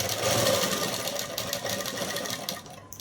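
A sewing machine runs continuously, stitching dress fabric along a marked line in a short, steady whirring burst, close and alone before slowing at the end.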